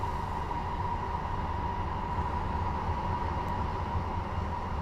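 A feedforward reverb plugin with high regeneration, driven by a snare hit, smears into a dense, constant roaring wash like the rumble of a railway station, loud and unbroken with no talk.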